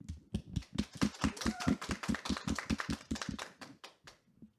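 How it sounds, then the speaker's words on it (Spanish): An audience at the opening of an evening talk program claps in a fast, even, synchronized rhythm, dozens of sharp beats in a row before trailing off into a few scattered final claps. "Les pedimos que iniciemos con un fuerte aplauso."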